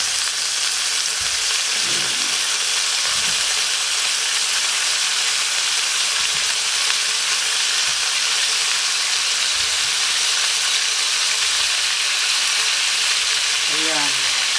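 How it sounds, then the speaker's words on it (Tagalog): Pork belly fries in a pan with a loud, continuous sizzle and hiss, while a few stirring scrapes break through. Someone speaks briefly over the cooking. "Lagay na natin ang pork."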